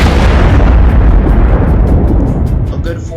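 Gojo's red ability detonating in a video game: a loud, sustained broadband blast that rumbles heavily for about three seconds and slowly fades, with crackling bursts near the end.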